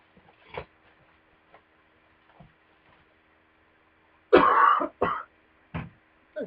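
Several short coughs and throat clears close to the microphone during a home livestream, one long rasping burst followed by a couple of shorter hacks, with quiet faint ticks before.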